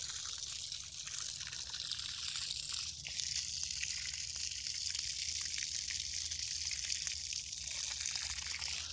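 Water runs into a planting hole dug around a Japanese maple, a soft continuous trickle and gush under faint hiss, steady and fairly quiet.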